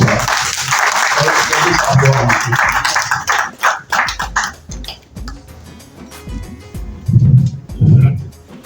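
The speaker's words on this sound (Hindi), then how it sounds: "मैं सभी साथियों को तो रिक्वेस्ट करूंगा जोरदार तालियों के साथ हमारे जंगली साहब को" A gathering at a news-covered speech event applauds in welcome of a speaker, dense clapping for the first few seconds that thins into scattered claps and fades, with a voice and low bursts near the end.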